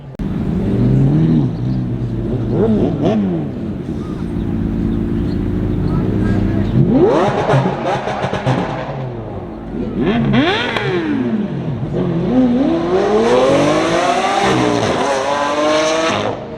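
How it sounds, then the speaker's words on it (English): A Lamborghini engine revs repeatedly at a car show, its pitch sweeping up and down in loud bursts over a steady rumble of other cars and crowd noise. "you guys can hear a Lamborghini revving in the background."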